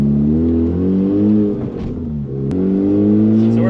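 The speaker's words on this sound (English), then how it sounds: "So we're flooring it." A car running without its exhaust is floored at full throttle, its loud, raw engine note climbing in pitch, dipping briefly mid-pull, then rising again as it keeps accelerating.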